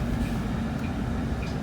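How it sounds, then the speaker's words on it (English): A train running alongside a moving bus in Perth, heard from on board as a steady, continuous low rumble with no talk. "We're racing with the train right now."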